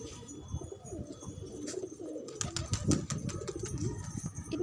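Two birds coo softly nearby in pigeon-like calls, with brief wing flaps and light rustling, and no voices.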